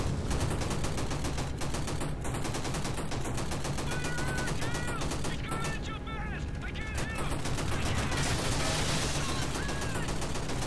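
Rapid, continuous gunfire from the video game Call of Duty 2: Big Red One, a dense clatter of automatic bursts filling the whole stretch at steady loudness, with brief tonal effects and occasional voices mixed in.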